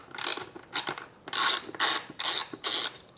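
A socket ratchet loosens 10mm bolts on a Royal Enfield Interceptor 650 motorcycle during a battery replacement. Six close, crisp bursts of rapid clicking ratchet strokes come alone, separated by short pauses.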